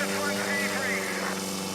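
A Yamaha Apex 300 hp engine powering a Just Aircraft Highlander at the Reno air races, running past 10,000 RPM, holds a steady, loud droning howl while a commentator talks over it.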